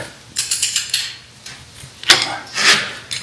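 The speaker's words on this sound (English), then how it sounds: "Tightening to 40 foot-pounds" A wrench clicks and ratchets in short bursts as a nut on a Scout steering column is tightened to 40 foot-pounds, followed by a sharper metallic creak, all close and with no talk.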